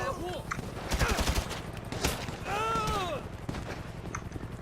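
Gunfire during a police special forces mission in the video game GTA V: scattered shots and short bursts mixed with other game effects and a warbling tone, at moderate loudness.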